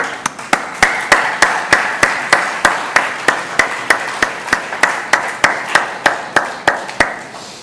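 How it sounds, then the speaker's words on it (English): Audience at a live-streamed event claps in a slow, regular rhythm, with sharp, close, evenly spaced claps continuing for about seven seconds with no talk. "I'd like to just publicly give them all a round of applause."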